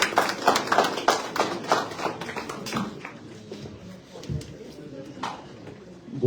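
Clapping from an audience at a welcome evening for newly arrived Haitians in Canada, brisk and dense at first, then thinning out as a voice starts speaking over the fading claps.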